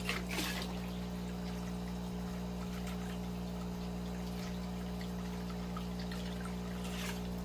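Water poured into a newly set up snail and fish tank, a soft steady trickle over a constant low pump-like hum, faint and continuous with no talking.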